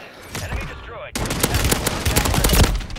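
Shotgun fire in Call of Duty Warzone: loud, punchy blasts in quick succession over dense battle noise, with other gunfire rattling around them and a voice briefly present.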